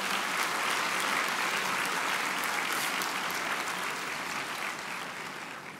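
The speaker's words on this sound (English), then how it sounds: "Let's give our faculty and staff a big round of applause" Audience at the Humber spring convocation applauds faculty and staff. The clapping is dense and even, from a large crowd in a hall, sustained throughout and tapering slightly toward the end.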